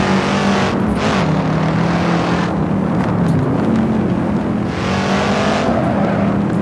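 A Shelby Cobra 427 races around a winding track, its loud engine droning continuously close by, with rising and falling revs as it brakes and accelerates through blind corners, the rear stepping out.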